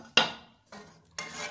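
Pot of carrots set on a stove, with three short metallic clanks and scrapes of the pot against the burner grate, close and fairly quiet, with no talking.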